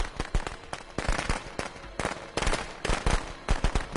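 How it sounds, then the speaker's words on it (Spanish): Firecrackers bursting close by in rapid, irregular volleys of sharp cracks and pops that are loud and continuous, with no speech over them. "¿Llega a venir Jason por la culpa de este pelotudo que tiró estos cohetes acá?"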